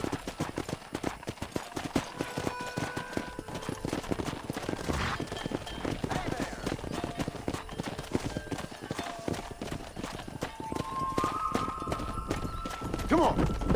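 Horse hooves clip-clop steadily down a road while riding in the Red Dead Redemption video game, a continuous rhythmic patter with faint gunfire pops and a voice talking over it.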